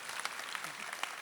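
An audience at an awards ceremony gives a brief burst of applause, a faint, even patter of many hands clapping from a distance with no voice over it.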